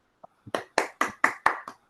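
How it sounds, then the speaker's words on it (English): Applause at the end of a talk about the Fort Shaw Indian School girls basketball team, heard as a short run of six or seven distinct, evenly spaced claps, quiet and close, after two soft taps. "applause for Linda again"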